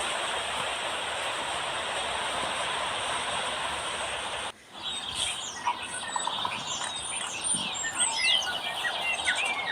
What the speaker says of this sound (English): the incredible bird calls that I'm hearing right now with this video